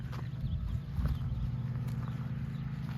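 Steady hooves clop on the ground as a bay horse and a buckskin walk, with a low rumbling background and no voices.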